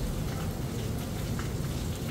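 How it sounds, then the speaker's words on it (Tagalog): Steady rain falls in a dense, even hiss, with a low rumble underneath and no voices. "Nag-uwan man diri."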